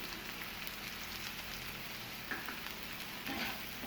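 Garlic, ginger, green chillies and spices fry steadily in a pan, a continuous close sizzle with faint stirring scrapes and no talking.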